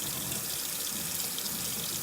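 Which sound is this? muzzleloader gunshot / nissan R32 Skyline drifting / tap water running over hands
tap water running over hands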